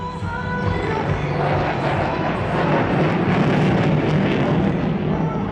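A military jet flies an integrated aerial display at the Singapore Airshow, giving a sustained, dense roar that stays loud and broad throughout, with no clear voices.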